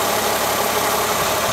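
A 2003 Mercedes-Benz E320 with a 3.2 liter inline six-cylinder engine runs steadily at idle, a continuous even hum heard close up with no voices.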